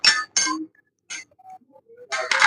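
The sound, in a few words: spanner clinking while working on a bicycle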